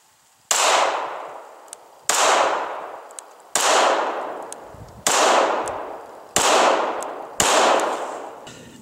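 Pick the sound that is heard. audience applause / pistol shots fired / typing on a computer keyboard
pistol shots fired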